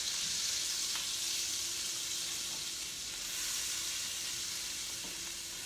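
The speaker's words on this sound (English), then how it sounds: "Just let that sizzle up." Butter and olive oil sizzle steadily in a hot pan while chicken marsala is being cooked, giving a continuous bright frying hiss with a few faint clinks and no talking.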